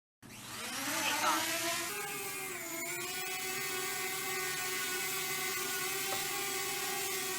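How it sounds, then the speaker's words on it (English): A DJI Mini 2 SE drone spins up for a one-button takeoff, its propellers rising into a steady high-pitched whine that then holds constant as it hovers close by, loud and alone. "If I press this button now, my drone will take off."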